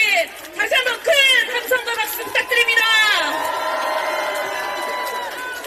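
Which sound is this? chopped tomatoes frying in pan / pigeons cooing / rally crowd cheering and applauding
rally crowd cheering and applauding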